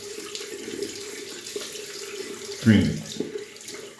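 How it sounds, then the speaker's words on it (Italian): Lukewarm water running from a tap to wet a shaving soap, a steady faucet stream with a louder gush partway through, under a brief spoken word. "acqua leggermente tiepida, vado a bagnare il sapone"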